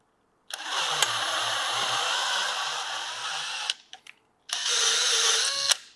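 Power drill running in two long bursts while welded metal shelves are built, a loud, close whine with a brief pause between runs and a faint low hum under the first.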